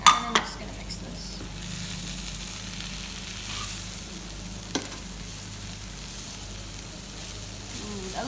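Chicken samosa filling is stirred with spices and herbs in a hot pan, a continuous sizzle with a few spoon clinks against the cookware.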